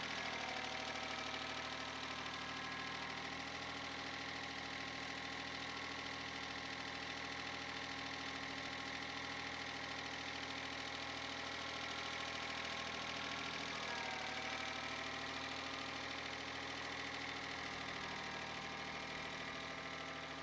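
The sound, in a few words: tractor engine running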